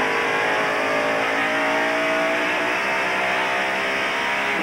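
Loud, steady roar of race cars circling an oval track at the 1993 Bud 500, engines droning continuously at high pitch with no pauses, close and dense throughout.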